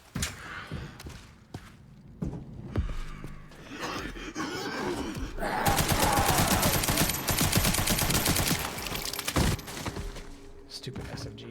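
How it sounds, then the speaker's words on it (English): Rapid submachine-gun bursts in the survival-horror game Resident Evil Requiem, a dense rattling stretch of fire peaking in the middle with scattered single shots and footsteps around it, no talk. "Stupid SMG."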